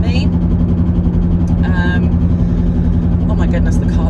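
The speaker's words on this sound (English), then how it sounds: "the car noises are really bad" A car engine running rough with road noise while driving to the cinema, a loud steady droning hum and rumble throughout, with people talking over it.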